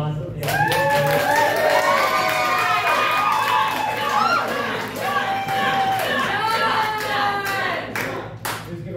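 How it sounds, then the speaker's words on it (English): Wedding guests at a brewery clap and cheer loudly, the applause running the full length with whoops and excited voices over it and some talking mixed in. "Let's give a round of applause, John."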